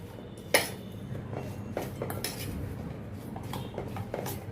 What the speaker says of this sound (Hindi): अभी इन सभी को अच्छी तरह से मैं मिक्स करती हूँ।